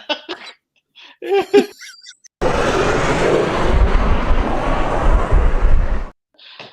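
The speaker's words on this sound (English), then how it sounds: "the sound of the jet goes with the truck perfectly" A jet-powered truck's engine roars loudly and steadily for several seconds, a broad rushing blast, preceded by brief coughing and laughter from people nearby and cut off abruptly.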